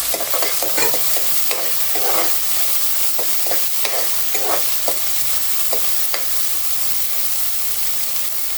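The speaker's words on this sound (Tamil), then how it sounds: "வெங்காயம் கொஞ்சம் நல்லா வதங்கட்டும்." Onions sautéing in a pan for broad beans stir fry, with steady sizzling and repeated scraping stirs of a spatula, close and fairly loud, no voices.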